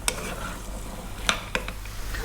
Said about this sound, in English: We really want to kind of fry this beetroot off.